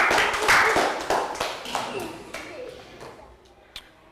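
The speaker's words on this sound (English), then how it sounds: "Round of applause, everybody." A burst of clapping from a small group in a classroom, loud at first and thinning out over a few seconds, with a few scattered claps near the end and voices mixed in.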